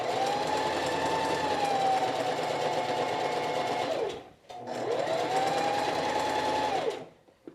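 A sewing machine stitching a quilted jacket runs in two steady, loud bursts of rapid needle hum, each several seconds long, separated by a short pause, with no talking.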